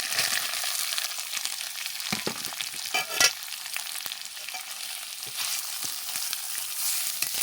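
Chopped onion frying in a hot pan for a home-style curry, a steady dense sizzle with occasional louder crackles and stirring scrapes, close up and continuous with no talking.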